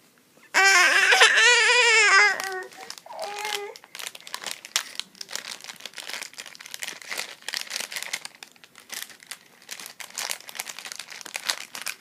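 A small child tears and crinkles gift wrapping paper on a present, a run of uneven rustling rips that follows a brief burst of crying and a few adult words.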